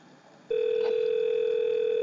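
A conference call app plays a single steady electronic telephone tone that starts abruptly and holds unbroken to the end, clean and close.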